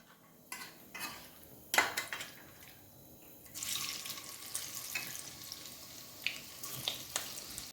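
Squid pieces frying in oil, a close sizzling hiss that swells midway, broken by sharp popping bursts and a few clinks of a utensil against the pan.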